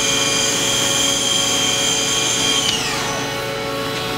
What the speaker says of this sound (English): Now we're doing index of the left turret